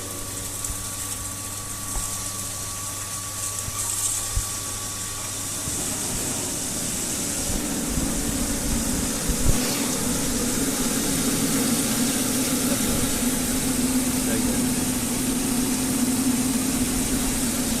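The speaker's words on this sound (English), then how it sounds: "The supply of the motor is on." The motor of a Pelton turbine test rig running: a steady mechanical drone that thickens after a few seconds into a broad rushing, spraying roar, continuous and close with no talk.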